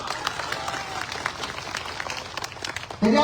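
A crowd at an outdoor political rally claps in a loose, uneven patter of scattered hand claps at moderate distance, and a speaker's voice cuts in loudly at the very end.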